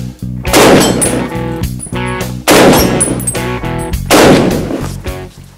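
Gunshots on a hunting shooting-school target course for hoofed game, three loud, sharp reports about two seconds apart, each ringing out with a long echoing tail and no talk over them.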